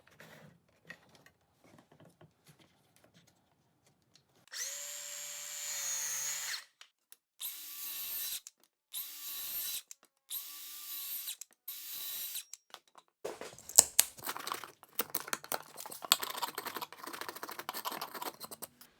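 A table saw with its blade set half an inch high cuts material from wood for a bike stand, heard as several loud, close whining bursts separated by short pauses, then a stretch of rougher clattering noise.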